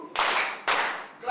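A group claps in rhythm at a community solidarity event in Africa, two sharp crowd-wide claps spaced about half a second apart, then the start of a third, loud and close.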